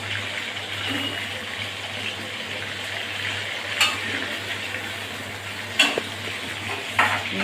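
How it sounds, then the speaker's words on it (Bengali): Potatoes fry in a pan for a Bengali vegetable curry. The sizzle is close and steady, broken by a few sharp clinks of stirring. "প্রথমে আলুটা আমি ভেজে নেবো"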